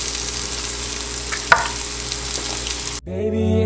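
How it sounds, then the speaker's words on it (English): Eggs fry in a pan inside a zucchini nest with a steady, close hiss and sizzle and a light stir near the middle. Near the end, music cuts in. "Now I'm just going to cook the eggs for about 3 to 4 minutes"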